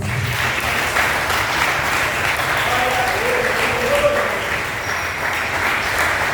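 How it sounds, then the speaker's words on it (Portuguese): A large church congregation applauds steadily and loudly for several seconds, a dense continuous clatter of clapping. "Você pode aplaudir o Senhor Jesus?"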